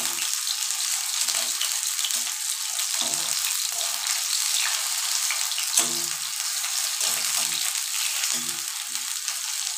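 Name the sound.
frying Bombay duck (lote fish) fritters in oil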